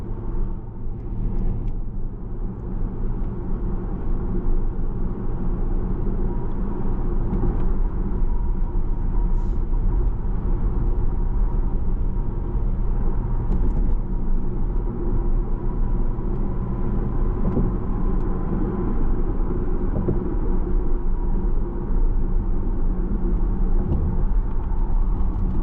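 A 2022 Porsche Panamera Platinum Edition driving on the road, with a steady low engine and road rumble and cabin hum throughout, continuous and moderately loud with no talking.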